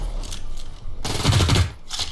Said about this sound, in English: Shooting in the air is not so easy.